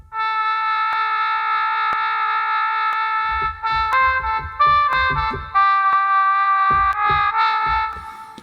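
A virtual jazz trumpet instrument with its growl setting turned up holds a long buzzy note, then plays a run of short, rough, growling notes over a deep pulsing bass, loud and close.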